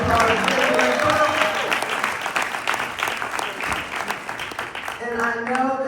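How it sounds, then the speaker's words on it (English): A crowd at an MLK Day speech by a congresswoman gives a big, sustained round of applause, dense and loud throughout, with a voice talking over the clapping. "Give him a big round of applause."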